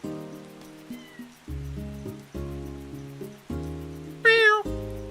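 A cat in a video game meows once, loud and wavering, near the end, while it plays with a cat toy; soft electronic game tones pulse in a steady pattern throughout.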